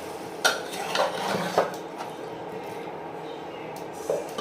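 Eggs being stirred in a pot with potatoes, a few soft scrapes and clinks of a utensil against metal over a steady low kitchen hum.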